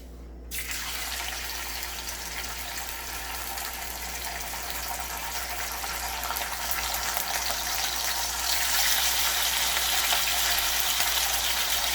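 Bacon for Puerto Rican arroz con gandules sizzles in a pot, a steady loud hiss of frying that starts abruptly and grows a little brighter and more intense toward the end, with no voices.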